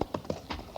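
Horse hooves clip-clop in a short, uneven run of several sharp knocks at a night river crossing, fairly close and unaccompanied by speech.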